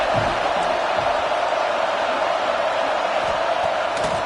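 Football stadium crowd at a Georgia vs Tennessee college game, a loud steady roar of many voices that fills the whole clip with no break.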